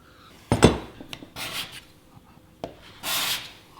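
A carbide tool scrapes and burnishes along a steel scraper edge in a few short, separate strokes, each a brief bright metallic rasp with quiet pauses between them, heard up close.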